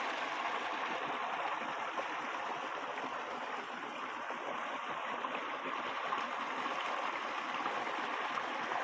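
A muddy stream flows steadily, a continuous rushing and gurgling that stays at an even level throughout with no voices.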